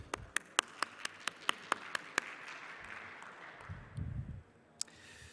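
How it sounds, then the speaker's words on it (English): Sparse, evenly spaced hand claps from a small audience in a ballroom at a Web3 conference in Dubai. About nine sharp, fairly faint claps arrive in a steady rhythm, then trail off into quiet room noise. "have a round of applause for yourself"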